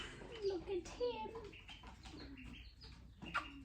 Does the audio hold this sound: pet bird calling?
yes